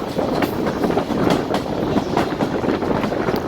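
A Safari Tourist Train rolls slowly into the railway yard near Golra station at about 15 km/h, with a steady, close rumble and dense wheel clatter throughout.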